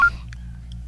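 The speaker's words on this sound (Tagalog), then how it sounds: "Ang telepono. Nagaring." A telephone ringing with a few short, faint electronic tone blips over a low steady hum.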